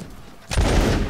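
A musket volley fired by line infantry in the Mount and Blade video game lands as one sudden loud roar of massed shots after a brief quiet, then rumbles on.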